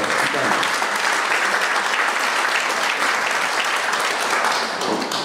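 Audience at a regional culture forum in Warmia and Masuria applauding a band leader and his group: dense, sustained clapping from a large crowd, fairly close and loud, continuing evenly for several seconds.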